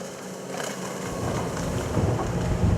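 Mercury Zar 57 Welldeck boat running at over 30 knots, a steady rush of engine, water and wind noise that builds slightly toward the end, heard alone.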